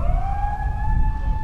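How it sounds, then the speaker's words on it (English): A tsunami warning siren on Japan's northeast coast wails in a steady, sustained tone over a deep rumbling background, loud and continuous with no voices. "The tsunami warning sirens rang out again today across Japan's northeast coast"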